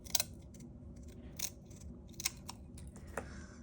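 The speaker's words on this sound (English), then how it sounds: "So let's cut that here. Cut that right there." Several crisp snips of scissors cutting paper to make journal pockets. The cuts come in short, irregular bursts, close and clear, with no voice over them.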